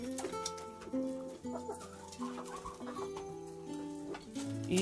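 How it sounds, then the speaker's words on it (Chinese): Chickens, including large hens, coming out to eat from a feeding basin at a coop, with soft repeated clucks and low murmuring calls heard fairly close over a quiet background. "大鸡也出来吃食物"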